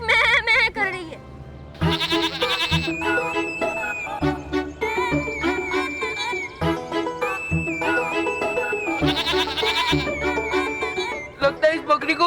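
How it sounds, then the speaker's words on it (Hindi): A goat bleats repeatedly in a comic children's fantasy show scene, its wavering cries mixed with other voices, music and dramatic sound effects that layer over it throughout. "बकरी उसके जैसे मैं कर रही है।"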